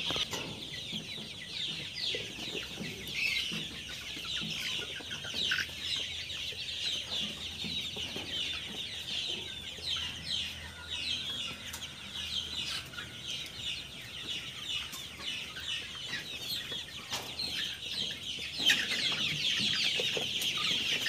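A dense flock of chickens in a poultry farm house in the morning clucks continuously, many birds overlapping in a busy, close chorus with no talking.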